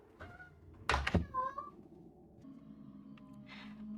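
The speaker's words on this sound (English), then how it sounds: "And my wailing cat is trying to get in." Cat wailing while trying to get in, a few drawn-out meows heard at moderate distance, with a couple of sharp thumps near the start and quiet room noise, without speech.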